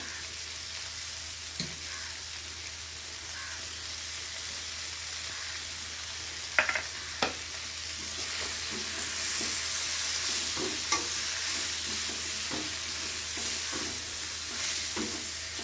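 Okra and potato masala fry being stirred in a pan: soft, intermittent spatula scrapes and taps over a low, steady sizzle, close and fairly quiet, with no voices.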